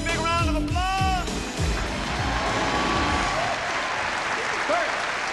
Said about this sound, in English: give Corey a big round of applause